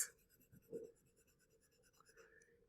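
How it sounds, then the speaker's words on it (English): Side of a colored pencil shades a candy corn drawing on paper in overlapping oval strokes, giving a faint, soft, steady scratching with a few slightly firmer strokes, close and quiet with no talk. "Using the side of the colored pencil, overlapping"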